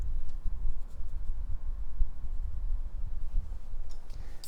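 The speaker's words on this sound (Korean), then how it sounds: "그냥 지우개로 위치 맞게 지워 주시면 돼요" An eraser rubbing over a pencil sketch of a sunset landscape on paper, a close, soft, steady scrubbing in short repeated strokes that goes on alone without talk.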